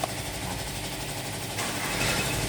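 Engine idling steadily after a clogged oil filter was fixed, a constant low rumble with a slight shift in tone partway through, no voices.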